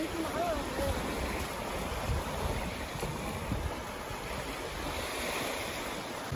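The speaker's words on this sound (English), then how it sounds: "I'm here at a beach called Stenshuvud here in Sweden." Waves wash continuously onto Stenshuvud beach in Sweden, a steady broadband surf roar with some wind buffeting the microphone.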